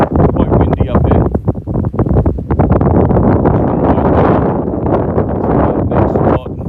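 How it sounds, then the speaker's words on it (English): Strong wind buffets the microphone at Salmon Glacier near Hyder, Alaska, a loud, continuous gusting roar with rumbling low-end bursts and no break throughout. "Quite windy up here."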